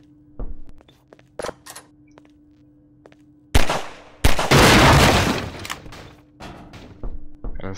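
A crate exploding in Half-Life 2, a loud burst of blast and breaking debris that rumbles and fades over a couple of seconds, preceded by scattered sharp clicks and impacts, with no talking.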